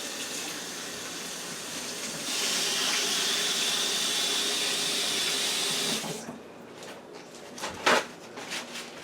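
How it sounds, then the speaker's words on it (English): Tap water runs steadily into a kitchen sink for handwashing, loud and constant, then stops and leaves a few drips and splashes. "let me wash my hand"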